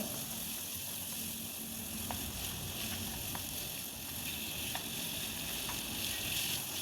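Potatoes and carrots fry with onions in a pan for a breakfast dish, giving a steady soft sizzle with a few light clicks of stirring throughout and no voices.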